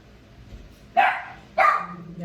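Two loud, sharp dog barks about half a second apart, close by, over quiet room background.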